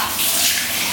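A small container of water is tipped out in a makeshift shower, giving a continuous close, loud splashing gush with no talk.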